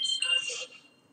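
A mobile phone chimes a short bright WhatsApp notification tone, fairly faint and fading after about half a second.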